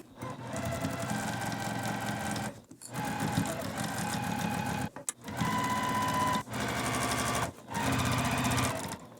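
A sewing machine stitches a gingham pillow case seam in several steady runs broken by brief stops, humming and whirring close and moderately loud with no talking.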